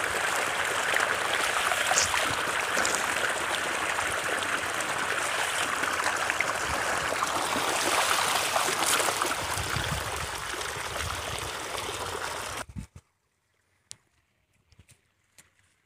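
Irrigation water runs down a shallow earthen channel toward papaya plants, making a continuous close rushing and gurgling flow. It cuts off abruptly near the end, leaving near silence and a few faint ticks.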